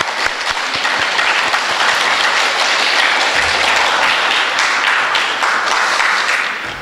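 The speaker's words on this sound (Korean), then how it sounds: "우리 그분들이 감사하다고 좀 우리 격려 박수를 좀 해드리고" Sustained applause of encouragement fills a church retreat gathering on a Friday night, a steady dense wash of many hands clapping loudly throughout with no talk over it.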